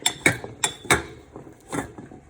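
A spoon stirring melting cheese and almond flour dough for keto fathead pizza in a bowl, with several sharp clinks against the side followed by softer scraping, close up with no voices.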